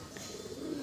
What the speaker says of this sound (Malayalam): നമ്മളെ പ്രാവ് ഇറങ്ങി.